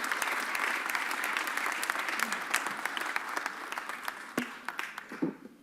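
An audience at a Philadelphia news conference, following the Sixers' new deal, applauds for the council president, a dense wave of clapping that thins into scattered claps near the end, with faint voices murmuring underneath.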